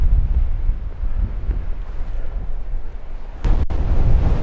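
A heavy, continuous wind roar batters the microphone on a winter walk up Mam Tor near Castleton, loud and low, with a brief sharp crackle near the end and no voices.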